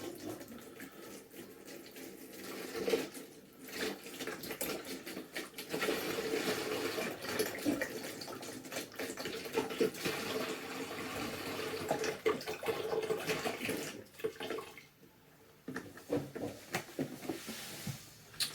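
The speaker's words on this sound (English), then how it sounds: "I'm going to start by filling up my demijohn with my apple juice" Apple juice poured from a container into a 5-litre glass demijohn for basic cider, a steady splashing gurgle running continuously for most of the stretch with brief dips, fairly quiet and close, no talking.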